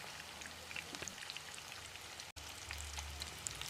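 Fish pieces fry in a pan for a peppery fish fry, giving a soft, steady crackle and sizzle with scattered pops, faint and close, with no voices.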